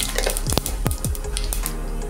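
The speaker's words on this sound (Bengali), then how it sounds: "তেল গরম হচ্ছে প্রেসার কুকারে, এর মধ্যে একটু প্রথমে হালকা একটু জিরা ফোড়ন দিয়ে দেবো" Cumin seeds sizzling in hot oil in a pressure cooker, a continuous close crackle with a few sharp pops and spits scattered through it.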